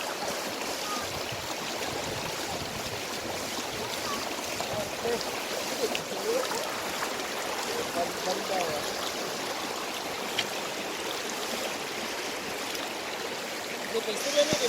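Steady rushing and gurgling of a cold river stream at Mesolong River in Talaingod, Davao del Norte, a constant broadband wash filling the whole stretch, close and even, with faint voices now and then beneath it.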